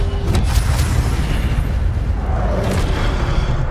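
Incendio fire spell cast in Hogwarts Legacy amid combat: a deep, rumbling whoosh and boom that sustains across the moment, with a few sharp accents early on and no voices.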